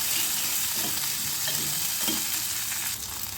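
Sun-dried vathal sizzle with a little salt in an oiled pan, a dense steady frying hiss close up with occasional soft stirring scrapes, no talking.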